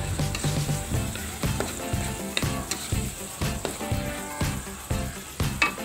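Cooking oil and salt go into a pot of reduced water with galangal, lemongrass, lime leaves and bay leaves. The result is a continuous close sizzle and bubbling with a rhythmic series of stirring clatters and knocks.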